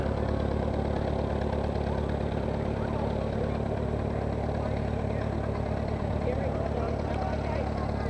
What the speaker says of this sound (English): it's an old tractor for sure